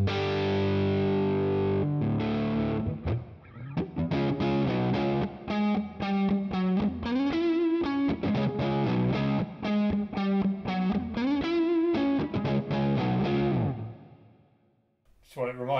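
Distorted electric guitar riffs played through a NUX Mighty Plug Pro headphone amp on its warm tone preset, a steady run of loud chords and single-note lines with effects, ending in a brief pause and a final strum.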